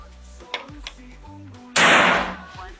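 A Bocap Predator GK-500 F air rifle fires a single shot; a sharp, loud burst of pressurized air at close range lasts under a second, preceded by faint mechanical clicks and a low hum.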